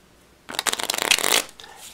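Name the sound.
shuffling a deck of playing cards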